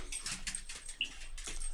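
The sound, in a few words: impatient dog whimpering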